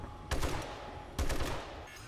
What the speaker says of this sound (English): They are shooting one of those turrets up there.